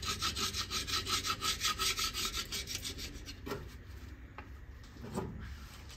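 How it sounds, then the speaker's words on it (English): Rhythmic scraping of a scraper across the underside of a cylinder head from a barn-find Austin-Healey Sprite engine, steady close strokes for about three seconds, then slower, sparser scrapes. "So I'll use the super scraper again."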